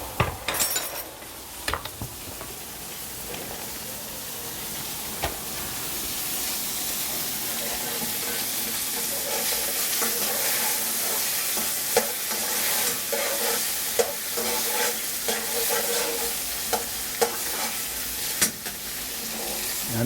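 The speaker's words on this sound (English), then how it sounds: "we're going to be putting some butter into the frying pan and tossing with a little seasoning our vegetables" Vegetables and okra sizzle and fry in butter in a frying pan, with steady crackling, repeated stirring and the clink of utensils against the pan throughout.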